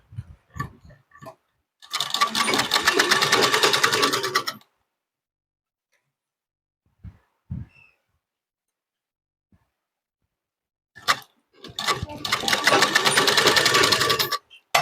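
Electric sewing machine stitching the folded inner edge of a choli blouse, two loud sustained runs of rapid stitching separated by a quiet pause with a few faint handling clicks.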